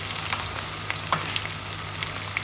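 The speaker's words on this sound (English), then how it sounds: "Dip into batter, fry in the oil." Battered fish frying in hot oil, a steady dense sizzle with small bubbling crackles throughout, close and even, with no voices.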